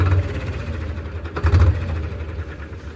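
Farmtrac 60 Worldmax tractor, a 2024 model, drives forward with a steady, low diesel engine rumble that swells slightly midway, close and continuous with no talking.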